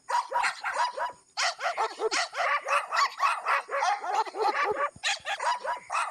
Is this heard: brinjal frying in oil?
no